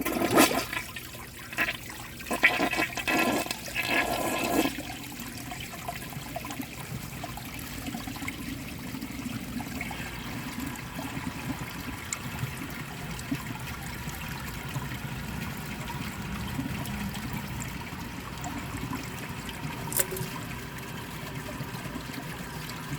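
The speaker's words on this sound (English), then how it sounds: "I'm going to overfill the tank and try that flush again." A 2011 AquaSource one-piece toilet flushes with a loud opening rush of water, then settles into a long, steady swirl and trickle with gurgling as the bowl drains and refills.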